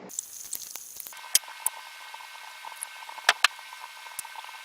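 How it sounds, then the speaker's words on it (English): Diethyl ether boiling in a flask during a Grignard reaction, heard as faint crackling pops and scattered small bursts over a quiet hiss. "Oh crap, it's boiling."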